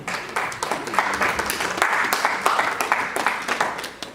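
A church congregation applauding after a sermon, steady loud clapping from many hands that goes on without a break.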